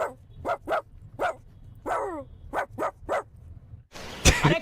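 A person imitates a dog with a run of sharp, barking yelps, about eight short bursts in quick succession and then one louder, harsher bark, close and alone against a low background hum.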